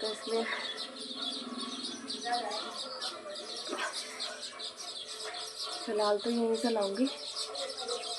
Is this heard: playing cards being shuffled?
no